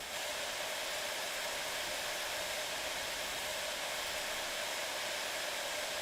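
A train brake hisses in the video game Derail Valley, a loud, steady, broad rush of air that holds without change for several seconds.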